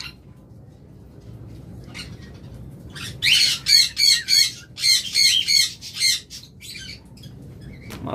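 Close-ringed breeding lovebirds let out a run of about ten loud, harsh squawks in rapid succession after a quieter opening, then fall back to scattered chirps.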